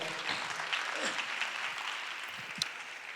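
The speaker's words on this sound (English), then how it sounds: "please give all of them a round of applause" Audience applause at a gala fills the room as a dense, even wash of many hands clapping, steady for the whole stretch with a few sharper claps poking through.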